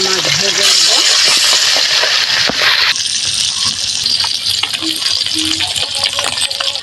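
Fish frying in oil in a kadai, a loud sizzling hiss that is strongest at the start, then settles into quieter crackling with scattered pops and clinks.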